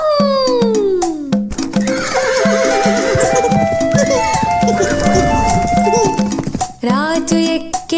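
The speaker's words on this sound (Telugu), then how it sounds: "చల్ చల్ గుర్రం చలాకి గుర్రం" A horse whinnies in a Telugu children's rhyme, a high falling neigh at the start, then clip-clop hoofbeats and bright music under a singing voice.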